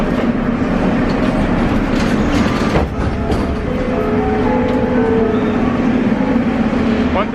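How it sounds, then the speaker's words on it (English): Interior of a Baku metro train in motion, a loud steady rumble with rattling and clacking wheels, continuous throughout the ride. "We're in the metro."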